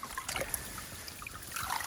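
A tiny creek cut down to bedrock at Dark Corner, New South Wales, trickles steadily with soft, close bubbling and light splashes.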